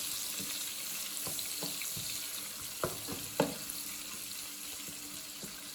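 Butter sautéing in a pan, browning as it cooks, gives a steady soft sizzling hiss with a few faint clicks and taps, close but fairly quiet, and no voices.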